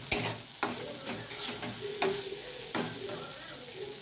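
Spices sizzling and being stirred in a pan while cooking a paneer curry, with soft frying hiss and periodic scraping strokes of a spatula, quiet and close.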